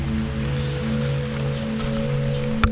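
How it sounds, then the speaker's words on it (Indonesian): Rain falls steadily outside a Japanese-era cave in Jogja where the path is sandy, making a constant dense hiss over a low hum, with one sharper knock near the end. "dan kondisi lagi hujan"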